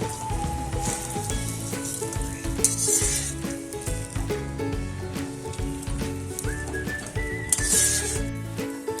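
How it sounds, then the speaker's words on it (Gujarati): Dates sautéing in ghee and stirred in a pan give a steady sizzle with occasional scraping, mixed under prominent background music. "ખજૂરને આપણે સારી રીતે ઘીમાં સાતળી લઈશું"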